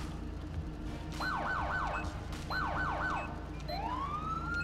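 A modded police car siren in GTA 5 with ELS plays two bursts of rapid yelping sweeps, then a single rising wail, loud and close with no talking.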